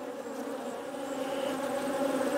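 Honey bees drone in a steady, dense buzz at an open hive during a brood inspection, close and continuous without any pauses.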